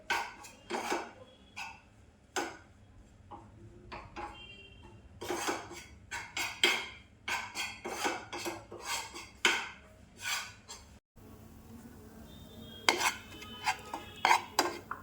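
Flour being mixed and roasted in butter in a pan, with a spoon repeatedly scraping and knocking against the metal in quick irregular strokes, close and clear, no talk.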